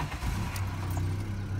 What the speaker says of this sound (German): Und der Motor startet ohne Probleme.